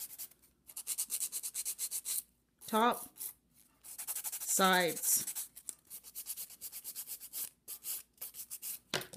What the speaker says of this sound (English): So I'm just going to sand this nail.